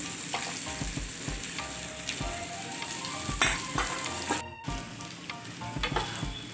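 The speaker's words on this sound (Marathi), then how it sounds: "हे भोपळ्याचे बारीक काप केलेले आपण हे काजू बदाम पण टाकून घ्यायचे" Thin slices of red pumpkin with cashews and almonds frying in ghee in a pan, giving a constant close sizzle with repeated stirring scrapes and clatters of the spoon, no speech.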